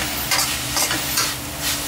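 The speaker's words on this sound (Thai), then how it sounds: "ผัดให้แห้งครับหลังจากนั้นก็ตามด้วยเต้าหู้นะครับ" Noodle filling with dried shrimp stir-fried in a pan, steady close sizzling with repeated scraping stirs of a utensil in a quick rhythm, no voices.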